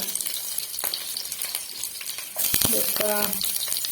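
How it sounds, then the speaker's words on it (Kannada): Chopped garlic sizzles in hot oil for a Mangalore-style chilli chicken, a steady crackling fry that grows louder midway, with a few metal clinks of stirring near the end. "ಎಣ್ಣೆ ಬೆಚ್ಚಾಂಡು ಮತ್ತೆ ಬೆಳ್ಳುಳ್ಳಿ ಪಾಡ್ಗ ಕಟ್ ಮಾಡಿನ"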